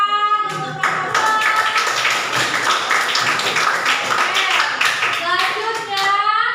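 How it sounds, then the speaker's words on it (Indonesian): Classroom applause for a student group after their presentation, a dense patter of hand claps with children's voices chattering over it throughout, close and steady. "Beri tepukan untuk kelompok 2."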